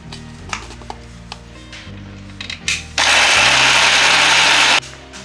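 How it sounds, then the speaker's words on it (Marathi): An electric mixer grinder whirs loudly for about two seconds, blending coconut, green chili, ginger and coriander into a fine paste, preceded by scattered kitchen clatter and soft background music. "कोकम शिजेपर्यंत आपण वाटण करून घेऊया। खोबरं, मिरची, आलं, कोथिंबीर।"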